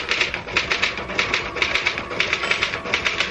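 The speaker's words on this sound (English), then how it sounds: "All the time I was typing, I felt myself pulling back, trying to make my fingers stop." Rapid clattering keystrokes from a manual typewriter, a steady run of close, crisp strikes repeating several times a second with no voices.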